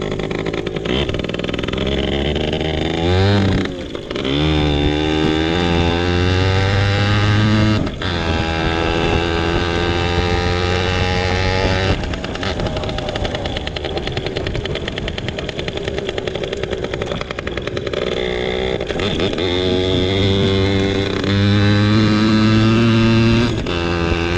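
A 1996 Yamaha PW80 small two-stroke dirt bike engine runs in a shop, its loud buzzing note rising and falling through several revs while warm, close and continuous with no talking.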